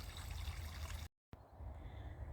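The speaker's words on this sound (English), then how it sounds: "The little waterfall, so soothing." A small waterfall trickles and splashes in a steady, close, broadband rush, cut by a brief dropout near the middle before it carries on unchanged. No one speaks.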